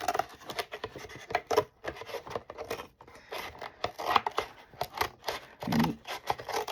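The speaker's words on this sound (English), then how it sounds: "And then I will be having to cut my papers down" Scissors cutting paper down to size for a handmade journal, heard as close, irregular snips and scraping rustles with brief pauses, no talking.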